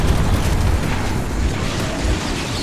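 Ammunition exploding in the video game Metro 2033 Redux, a loud rumbling burst of blasts that rolls on steadily and dense, with no clear pauses.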